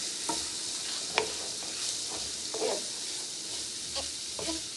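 Onions and green peppers are stirred through seasoned cheesesteak meat on a hot griddle, with a continuous sizzle under repeated scraping strokes of a spatula, close and moderately loud.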